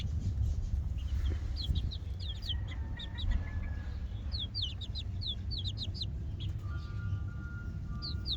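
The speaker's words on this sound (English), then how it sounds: "I have a bunch of laughing roosters" Four-week-old laughing rooster chicks, an Indonesian breed, cluck and peep in short rapid bursts of high chirps over a low steady background hum, fairly close.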